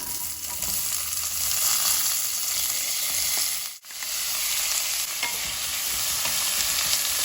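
Onions sauté in hot oil with whole cloves in a pan for idli kurma, a steady close sizzle with stirring scrapes, briefly cut by a sharp dip midway before the frying hiss resumes.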